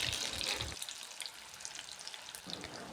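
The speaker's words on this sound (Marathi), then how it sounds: "कढईमध्ये तेल टाकून तेल गरम झाल्यानंतर छोले बोटांनी हलवत थोडे थोडे टाकून घेऊया." Chickpeas dropped into hot oil in a kadhai give a bright sizzle at the start, fading to a quieter, uneven crackle before the hiss swells again at the end, no speech.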